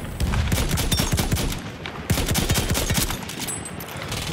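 Rapid gunfire in Battlefield 1 online play, a loud, steady stream of close automatic shots that barely pauses across the whole stretch.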